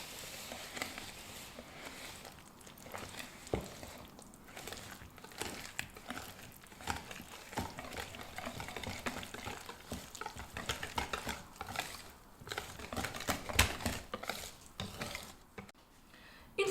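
Semolina pancake batter with oil, milk and eggs is stirred in a bowl, giving soft continuous scraping and clinking strokes, faint and close with no speech.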